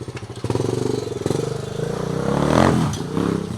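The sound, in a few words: repaired dirt bike engine running as it is ridden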